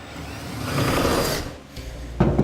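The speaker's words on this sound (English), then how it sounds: "Drill our 5/8 inch hole" A power drill boring a 5/8 inch hole through the steel back rail of a truck bed while installing a Demco Autoslide 5th wheel trailer hitch, a close steady whine that rises, dips briefly, then bites harder near the end.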